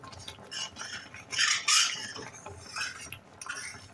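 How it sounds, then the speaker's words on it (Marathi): A spoon scrapes and clinks through thickening homemade strawberry jam in a pot on a gas stove, in repeated uneven strokes that swell louder midway, with no talk. "हे सतत ढवळायला लागतं"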